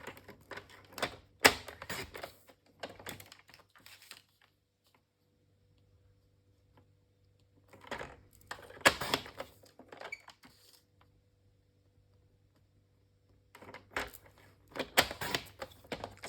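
Cardboard pieces are cut by hand for an advent calendar craft box, giving quiet clustered ticking and snipping clicks in three short bursts separated by near-silent pauses, close to the listener.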